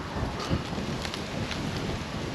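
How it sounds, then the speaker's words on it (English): Steady coastal wind on the southern coast of Guam rushes and buffets the microphone with a constant low roar and no voices. "it's kind of windy out here"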